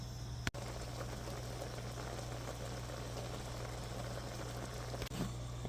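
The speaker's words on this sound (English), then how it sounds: "We have the butter melted now, and we're just cooking the onions, softening them up so they become one with the butter." Onions softening in melted butter in a pot give a steady, soft bubbling sizzle that runs continuously, with a couple of brief clicks.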